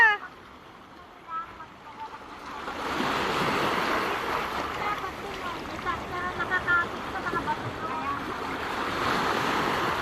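Ocean surf at a Filipino shoreline where mussels are gathered, a broad steady wash of breaking waves rising after a quiet start and holding on, with wind buffeting the microphone.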